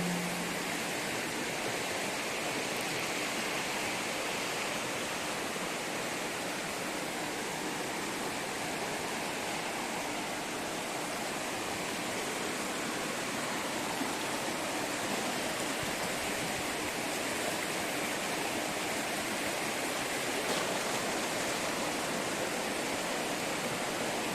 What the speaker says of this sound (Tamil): அப்படியே அந்த அருவியோட சவுண்டை ஃபீல் பண்ணுங்கள்.